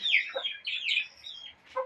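Hen and her three chicks clucking nearby on a hill farm, a run of short, bright clucks and chirps in quick bursts with a brief pause before a final call, no talk.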